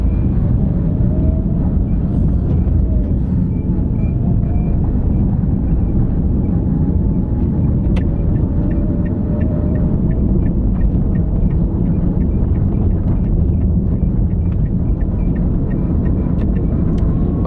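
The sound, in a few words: manual car engine braking in lower gear, then accelerating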